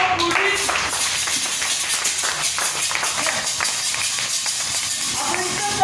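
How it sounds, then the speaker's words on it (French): An audience claps together in steady, sustained applause that fills the room, with a voice faintly present underneath. "Applaudissons pour lui."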